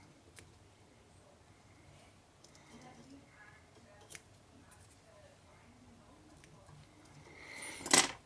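Fly-tying material is trimmed with scissors while tying a Snelda salmon and sea trout fly. Quiet handling sounds lead up to a single sharp, close snip near the end.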